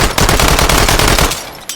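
An Uzi fitted with a 72-round drum magazine fires in the VR shooting game H3VR: a loud, close, rapid stream of automatic shots for about a second and a half before cutting off.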